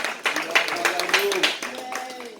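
A church congregation claps and cheers, with quick irregular claps mixed with raised, joyful voices that rise and fall together.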